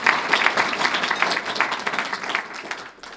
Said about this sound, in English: So give yourself a round of applause today.